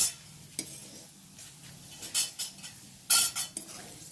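Potatoes fried to a reddish brown are lifted out of hot oil in a pan with a spoon, giving a few sharp metallic clinks and scrapes against the pan over a faint, steady sizzle.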